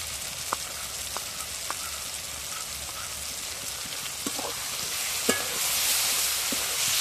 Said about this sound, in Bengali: বাটা মশলা দেওয়ার পর ভালো করে কষিয়ে নিয়েছি